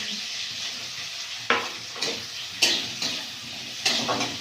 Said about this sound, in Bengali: চিংড়ি মাছ পেঁয়াজটা ভাজা ভাজা হয়ে গেছে